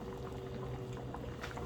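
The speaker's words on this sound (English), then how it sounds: "To add the cornstarch in here." Cornstarch slurry being poured into boiling bitter melon chicken soup gives a steady bubbling, splashing liquid sound, close and continuous throughout, with no talking.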